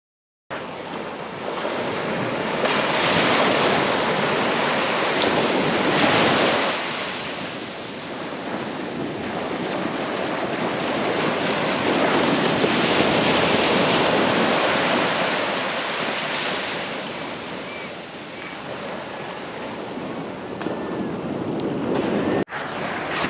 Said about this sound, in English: suddenly you're out on the coastline with the sand spit and the ocean and the waves behind you